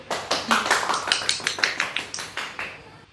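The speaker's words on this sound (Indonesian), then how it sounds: "Jadi tepuk tangan dulu untuk Kuliah dan" A small classroom group claps in a quick, slightly uneven rhythm of distinct close hand claps, about a dozen bursts over a few seconds before stopping.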